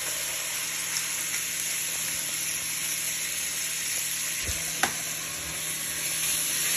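A pot of seasonings and soy sauce fries with a steady close sizzle while a spoon stirs it, for Dominican-style red beans. A faint clink is heard near the end, and there is no talking.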